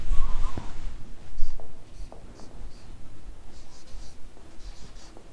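Chalk or marker writing a heading on a classroom board, a string of short scratchy strokes close by, with a thump near the start.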